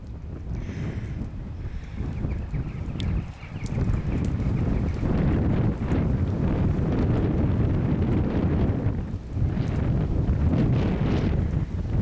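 Strong wind buffets the microphone on a cold, wet February day in the Yorkshire Dales countryside near the River Swale, a loud continuous roar with gusty surges and no speech.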